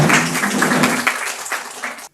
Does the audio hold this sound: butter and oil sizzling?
no